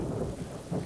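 Heavy rain pours over a house with a low, continuous rumble of thunder, a dense steady wash filling the short moment without any voices.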